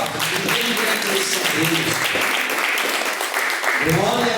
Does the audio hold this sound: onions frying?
no